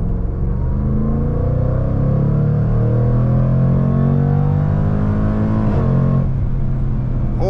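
Supercharged V8 of a 2024 Jaguar F-PACE SVR accelerating at full throttle in dynamic mode, a loud continuous rising roar heard from inside the cabin, with a gear change near the end.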